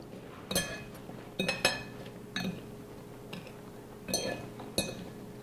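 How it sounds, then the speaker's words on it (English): Forks clink against a bowl a few separate times while cranberries are coated for a holiday martini garnish, each bright metallic tick short and close, with quiet gaps between. "I'm just going to use a couple of forks to coat them."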